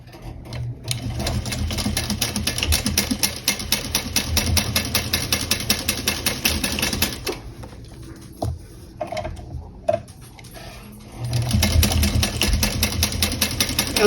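A sewing machine running fast top stitching on a small fabric bowler bag, a loud, close, steady rapid chatter that pauses briefly for a few clicks and then starts again.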